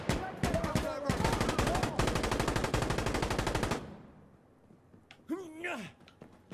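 Sustained automatic gunfire in Insurgency Sandstorm, a long, loud rhythmic string of rapid shots lasting several seconds, then a sudden stop followed by a short spoken phrase.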